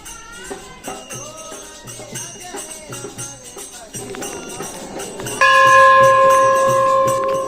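A bell rings at a Jain temple at Nemawar, first struck in scattered strikes among voices and ambient noise, then ringing out loudly with a sustained, shimmering resonant tone near the end.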